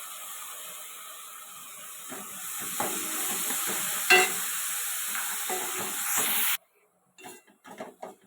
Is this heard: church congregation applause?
no